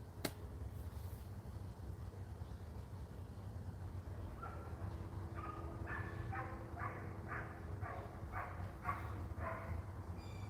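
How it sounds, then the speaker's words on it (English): Dogs barking in the distance, a string of about eight faint barks in the second half over a steady low background hum, with no talking. "All I hear is dogs barking."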